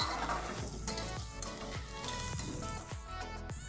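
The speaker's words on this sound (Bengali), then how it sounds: "কেটে রাখা পেঁয়াজ কুচিটাকেও দিয়ে বেশ কিছুক্ষণ ভেজে নেব" Chopped onions frying in hot oil with a bay leaf and tempering spices for a smoky chicken kosha, a steady sizzle with regular clinks and scrapes of a stirring spatula against the pan.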